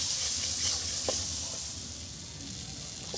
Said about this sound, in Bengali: আর এই আমি আদা রসুন বাটা পেঁয়াজের সঙ্গে কষিয়ে নিচ্ছি